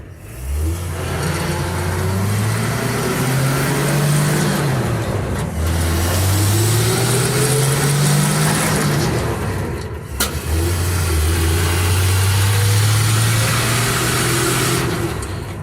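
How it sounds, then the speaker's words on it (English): A 1966 Chevrolet C20 pickup engine revving and pulling through gears on a first drive with a maladjusted choke, loud and close, with a sharp backfire crack near the middle. "Had a little backfire there."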